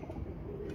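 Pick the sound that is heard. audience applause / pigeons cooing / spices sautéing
pigeons cooing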